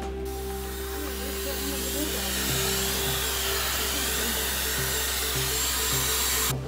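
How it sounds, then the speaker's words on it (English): A hair dryer blows steadily on wet paint on freshly installed chair rail molding, giving a loud, constant motor whine and airy rush that holds for several seconds with no one talking. "So I'm gonna get the blow dryer real quick."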